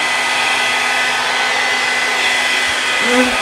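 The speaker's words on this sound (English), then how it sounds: "I think I'm going to use my big, my big hair dryer." A large hair dryer blows steadily over acrylic pour paint with a loud, constant whooshing hum that holds unchanged throughout, with a slight shift in pitch near the end.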